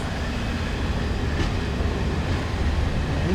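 A train pulls out of Marrakech station in Morocco with a steady, close, continuous rumble and faint rail noise, and no voices.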